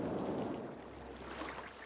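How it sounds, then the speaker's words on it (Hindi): Steady rain hisses with a low rumble of thunder underneath in the game Cities: Skylines, a continuous stormy wash of sound without voices. "बारिश चल रही है यार।"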